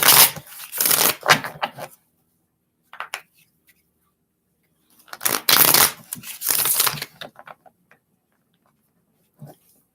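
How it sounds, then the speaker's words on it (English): A deck of cards is shuffled by hand for a reading, with two bursts of quick riffling and flapping close up, separated by a pause and a few faint taps. "Let's shuffle."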